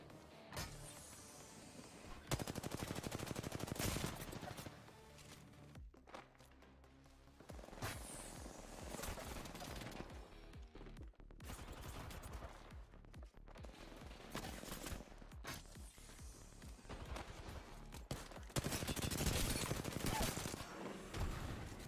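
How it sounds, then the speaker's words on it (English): Sustained automatic fire from an R99 submachine gun in an Apex Legends match, with repeated long rattling bursts, some loud and close and some farther off, running almost the whole time beneath occasional voices. "That guy's like dumping R99 mags"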